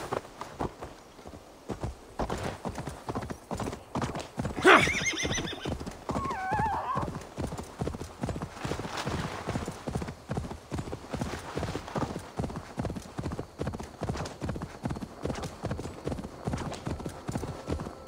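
Horse hooves clip-clopping in a steady galloping rhythm with a loud neigh partway through, from the Assassin's Creed Valhalla video game, continuing close and prominent for the whole stretch with game music or ambience beneath.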